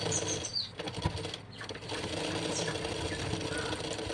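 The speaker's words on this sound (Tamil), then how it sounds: "இப்போ வந்து இன்னொரு தையலும் போட்டு எடுத்துக்கலாம்" A sewing machine stitches a lined blouse, a near, steady mechanical whir running through most of the clip after a brief uneven start.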